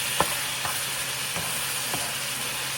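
Chicken breast frying in a pan gives a steady, close hiss of sizzling oil, with a few soft utensil taps spaced through it and no voices.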